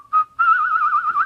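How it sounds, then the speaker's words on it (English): An odd little whistled theme from the action film Close Range: a single clear, slightly wavering whistle. A short opening note is followed by a longer sustained tone. It is close and alone. "they're still trying to keep this theme of this odd little whistle"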